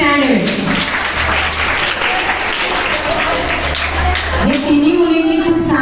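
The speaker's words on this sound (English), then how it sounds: "So again a big round of applause for 3 of them." Audience at a school speech competition applauding the prize winners, a steady burst of clapping lasting several seconds, with a voice speaking over it.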